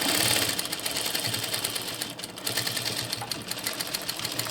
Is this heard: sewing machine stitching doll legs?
yes